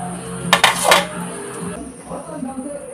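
Dishes and cutlery clink sharply in a short burst while a home meal of khichuri and fried potatoes is served, then settle into quieter handling noises.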